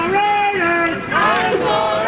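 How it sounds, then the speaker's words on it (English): A home crowd in Chateauguay yells and chants together during a Bantam AAA youth football game between the Chateauguay Raiders and Lakeshore Cougars, loud and sustained, with drawn-out voiced cries rising and falling. "the crowd here in Chateauguay tries to get their team pumped"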